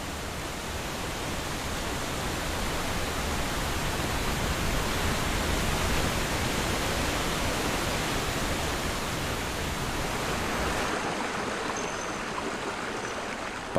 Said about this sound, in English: Rivers plummet down valleys, zigzagging through rapids and cascading down waterfalls.